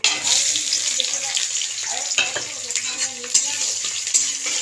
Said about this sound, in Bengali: এবার আমি কুচনো পেঁয়াজগুলো সব দিয়ে দেবো।